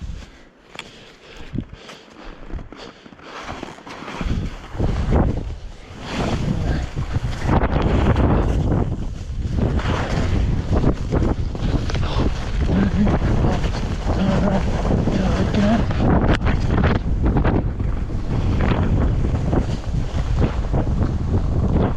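Strong wind roars across the top of Loveland Ski Area, buffeting the microphone with a loud, continuous rumble that builds and stays heavy throughout.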